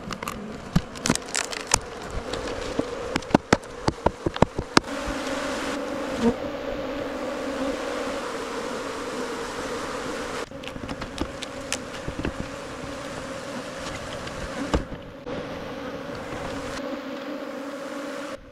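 Bees buzz in a steady drone around a freshly cut wild honeycomb being divided by hand outdoors near a bamboo floating house, with scattered clicks and handling noises early on and no talking.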